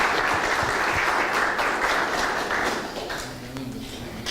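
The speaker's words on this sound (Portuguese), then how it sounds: "Salva de palmas, por favor." Audience applause for arriving guests during a mayor's interview in Guarujá, steady vigorous clapping that fades toward the end as a voice begins to come through underneath.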